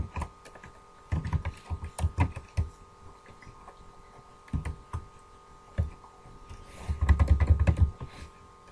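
Typing on a computer keyboard with close, crisp key clicks in irregular bursts, including a quick flurry of keystrokes near the end, against a quiet background.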